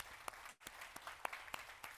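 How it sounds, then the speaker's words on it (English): Audience applause at the LHC Congreso 2024 conference: faint, steady crowd clapping with a few sharper individual claps standing out, and a brief dip partway through. "let's just give a round of applause"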